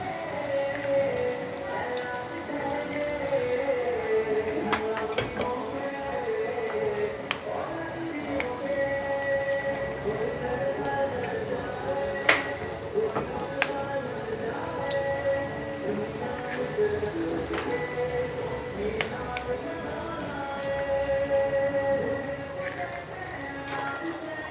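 Eggs added one by one into hot oil in a pan for pyaz anda (egg bhurji), giving a steady close crackling sizzle like rain on a surface, continuous and moderately loud, with no talk.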